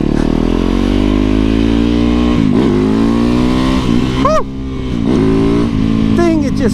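A supermoto motorcycle revs and accelerates close by, its engine note rising and falling in several pulls and shifting pitch, loud and continuous, with someone talking over it.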